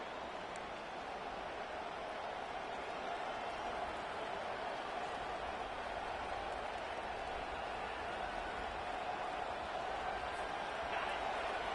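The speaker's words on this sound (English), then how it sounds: "Listen to this crowd just shaking the girders of this place, trying to help their defense." A large crowd in a packed American football stadium roars before halftime to back the home defense, a broad continuous wash of cheering heard at a distance under an announcer's commentary.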